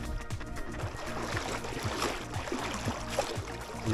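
Cold water sloshing and splashing steadily as people wade into an icy lake at the Green Lakes, a continuous rolling wash with soft repeated surges and no voices.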